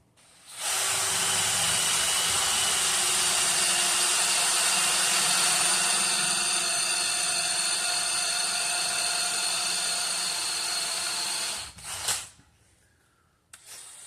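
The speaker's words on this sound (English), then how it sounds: "So I like to get that bit a little warm when I'm drilling aluminum." A drill bit coated in drill wax bores into aluminum, giving a steady, loud high whine and hiss that runs for about eleven seconds before cutting off with a short clunk.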